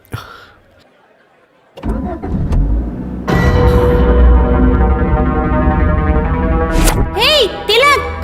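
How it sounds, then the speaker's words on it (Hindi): Car engine starting in a tense horror film scene: a quiet stretch, then the engine catches and settles into a loud, steady run, with brief warbling tones near the end. "गाड़ी स्टार्ट हो गई है"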